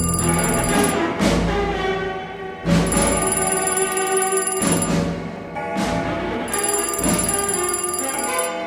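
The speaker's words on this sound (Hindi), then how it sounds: "फोन फिर से बज उठा" A telephone bell rings loudly in repeated bursts, each ring a bright metallic trill separated by short gaps, close and alone.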